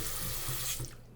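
Hotel bathroom sink faucet with a loose handle running steadily, water streaming into the basin at close range, then easing off near the end.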